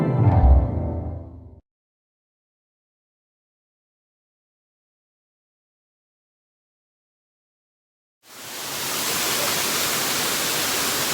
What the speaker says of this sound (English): there's going to be a lot of noise because there's a lot of water coming down behind us here